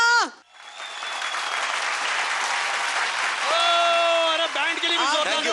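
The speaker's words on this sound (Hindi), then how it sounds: "एक बार फिर से तालियां" Loud, steady clapping from a studio audience on a music show stage, starting right after a voice cuts off and continuing over sustained band instrument or vocal tones in the latter half.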